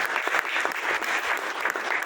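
An audience at a stage event in a wedding hall claps in a dense, continuous round of applause, steady and fairly loud throughout.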